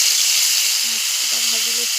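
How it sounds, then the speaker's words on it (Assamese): Dried fish frying in hot oil in a wok, giving a steady, loud hiss and sizzle throughout, with a faint voice murmuring underneath. "মাছকেইটা ভাজি ল'বলৈ।"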